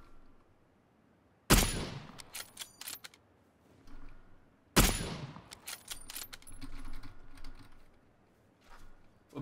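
Two sharp, loud gunshots in the battle-royale shooter PUBG, spaced a few seconds apart, each followed by a short run of mechanical clicks and clatter. No one speaks.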